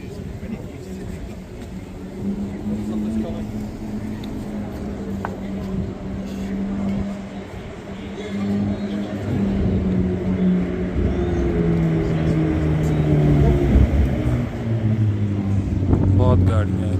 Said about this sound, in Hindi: बहुत गाड़ियाँ इधर से गुजरती हैं।